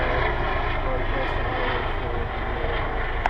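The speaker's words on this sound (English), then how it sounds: "we get a lot of helicopter traffic" A helicopter passing overhead near a highway, its engine and rotor making a loud, steady broadband roar that holds throughout with no pause.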